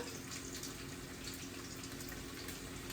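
Kitchen tap running for hand washing, a faint, steady hiss of flowing water lasting about three seconds with no break and no talk.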